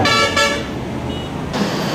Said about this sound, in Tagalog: Kaliwat kanan, may bumubusina.